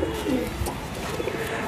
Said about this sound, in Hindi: ये एक जाग कबूतर है